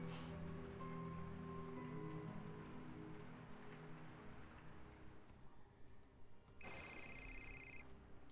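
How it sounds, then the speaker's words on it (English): An electronic telephone rings once in a quiet room, a short bright burst near the end that stands out above steady rain drumming on a surface. "Oh, we got a phone call."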